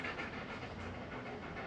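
A dog pants heavily in quick, even rhythmic huffs, close by and fairly faint, the breaths chugging steadily like a small train.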